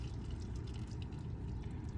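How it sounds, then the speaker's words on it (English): Old gasoline running out of the fuel lines of a long-abandoned BMW E30, a steady faint trickling flow with soft splashing and no voices. "Get all that old gas out of the lines."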